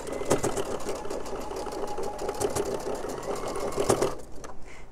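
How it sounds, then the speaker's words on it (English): A sewing machine stitching over bulky fabric seams runs steadily at close range with a rapid mechanical chatter, and its needle thumps labour audibly as it pushes through thick layers, then stops at the end. "My poor machine, you can hear it going over all those seams."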